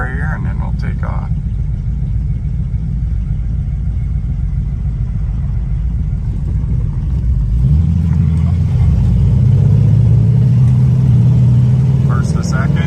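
A muscle car pulls away and accelerates, its low rumbling engine rising in pitch as it climbs from first to second to third gear, heard from inside over a steady road drone.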